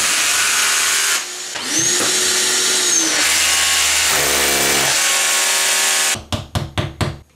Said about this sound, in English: Now we know exactly where we're going to drill our holes for our bottom brackets.